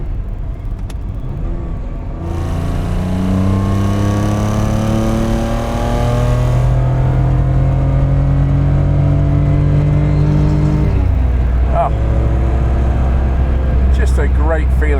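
Toyota 2000GT classic sports car with its engine warmed up, revving hard and climbing through the gears in loud, close rising sweeps, a brief lift between pulls, with someone talking over it.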